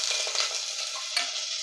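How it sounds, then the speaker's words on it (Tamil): Paneer cubes fry in hot oil inside a pressure cooker, giving a bright, steady crackling sizzle with a brief louder burst partway through, close and uninterrupted by speech. "எண்ணெய் சூடானதும் இதில் நான் பன்னீரை ஃப்ரை பண்ணி எடுத்துக்கிறேன்"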